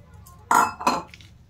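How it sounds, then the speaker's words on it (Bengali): A spoon mixes onion piyazi batter in a bowl, giving two short bursts of clinking and scraping against the dish, close and fairly loud, with quiet gaps around them. "আমি চামচ দিয়ে মিশিয়ে নিচ্ছি"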